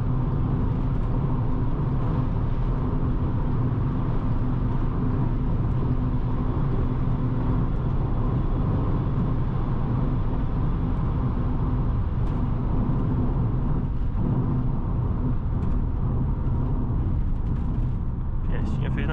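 Inside a Volkswagen Jetta TSI at over 200 km/h, a constant heavy roar of engine, road and wind noise runs unbroken, with voices talking over it.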